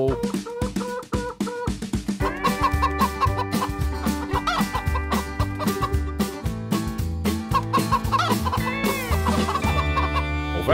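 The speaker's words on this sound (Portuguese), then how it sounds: "Em sua fazenda ele tem uma galinha." Animated chicken clucks and crowing-style calls ring out over bright, bouncy instrumental music in an Old MacDonald farm song for children, with the rhythmic clucks loud and repeated throughout.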